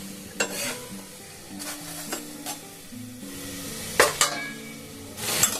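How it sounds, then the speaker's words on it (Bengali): A paratha fries in a pan with a steady sizzle, punctuated by several sharp scrapes and clinks of a spatula against the pan, close and fairly loud, with no talking. "দেখুন আমি একটা করে ভেজেও আপনাদের দেখাচ্ছি, কিরকম ভাজতে ভাজতেই যেন ফুলে উঠছে।"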